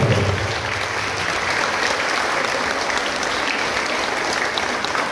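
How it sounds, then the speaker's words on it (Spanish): Steady, loud applause from a crowd, continuous clapping filling the whole stretch without pause. "Un aplauso."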